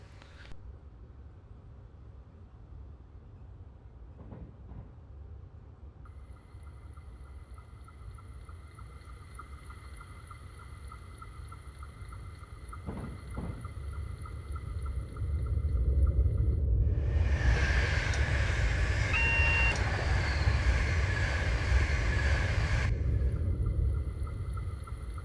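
Class 320 electric multiple unit running in Train Simulator 2015 on the Glasgow Central to Lanark route, a steady cab rumble that builds louder with a sustained high whine and hum, no talking.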